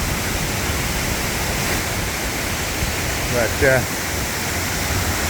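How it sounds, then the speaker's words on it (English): Waterfalls at Watkins Glen State Park, heard as a steady broadband rush of falling water close by, continuous throughout, with a brief spoken word partway through. "What a set of falls that is."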